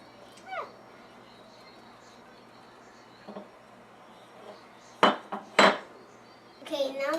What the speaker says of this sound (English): Okay, now stir the butter around until it's melted.